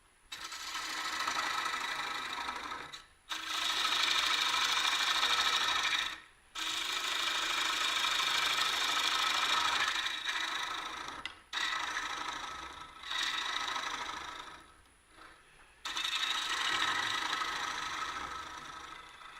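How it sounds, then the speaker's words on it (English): Bowl on a wood lathe being shear scraped with a turning tool, a steady broad scraping hiss in long passes broken by short pauses, close and fairly loud with no talking. "I could turn it sideways and I can shear scrape with it"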